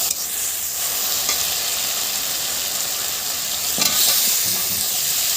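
Chopped tomatoes stirred into a sizzling spice masala for an aloo-kochu fish curry, with a steady close hiss of frying and a few brief scraping stir strokes, no voices.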